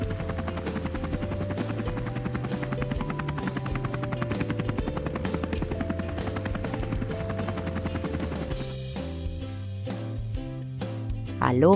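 A helicopter's rotor thumps in a steady rapid rhythm, loud and continuous, with the engine droning underneath before it shifts near the end.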